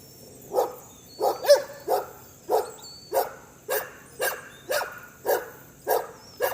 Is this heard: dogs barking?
yes